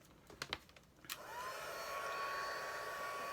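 Electric heat tool switching on after a few clicks and handling taps, then a steady whirring blow with a faint high whine, used to melt embossing powder on a papercraft layer.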